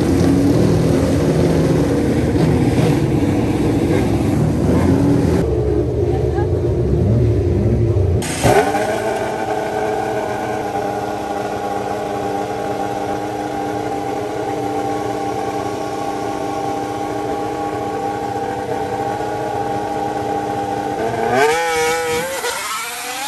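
Formula 1 race cars, including a Mercedes W12, roar past at Goodwood Festival of Speed. A loud, sustained high-revving engine scream rises and falls through gear changes, broken by a brief lull and a sudden loud return.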